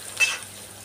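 Garlic hits a hot pan in a brief sizzling burst that quickly settles into a soft, steady frying hiss, heard close with no voices.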